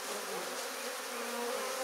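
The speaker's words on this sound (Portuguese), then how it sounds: "Muita abelha, né?" Many honeybees swarm at an opened beehive laden with honey, a dense close buzzing that holds steady and loud with no other sound.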